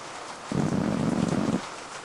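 Rain falls in a horror video game, a steady hiss that swells into a heavier, louder downpour for about a second before easing back to a soft background wash.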